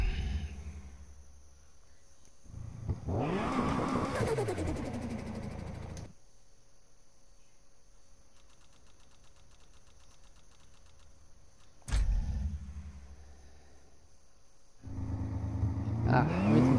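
Car engine revving during a street race in Need for Speed Heat, with surges of acceleration rising and falling in pitch, quieter idle-like stretches between, and a sharp click midway.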